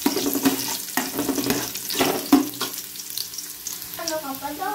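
Red onion fries in a pan for native chicken adobo, with a close, steady sizzle and crackle broken by stirring clatter. A short burst of higher, wavering noise comes near the end.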